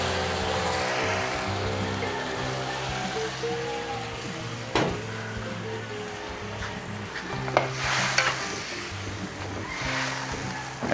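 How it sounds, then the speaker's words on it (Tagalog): A Filipino stew with broth just added is stirred in a pot over the heat, a soft steady sizzle and simmer with a few sharp clinks from the spoon against the pot. "Haluin lang po natin"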